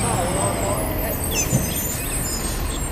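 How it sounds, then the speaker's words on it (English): A noisy garbage truck rumbling past an urban pond, a continuous low engine drone at moderate distance with a faint hiss of brakes and some background bird chirps. "Bloody noisy garbage truck."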